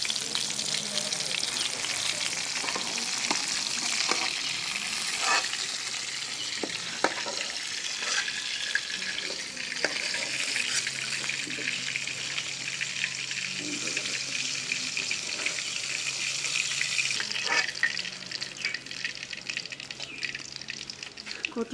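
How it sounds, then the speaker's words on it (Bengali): Fish fry in oil in a pan with a constant, crackling sizzle, scattered pops and spatters, and occasional utensil scrapes, steady and fairly faint over a long stretch. "মাছগুলো ভাজা হয়ে গেছে"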